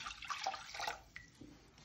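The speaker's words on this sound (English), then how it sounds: "And you want to add about 1/3 of it water" Quiet splashing and trickling of water poured into a pan for fish escabeche, brief and faint, tapering off into small drips.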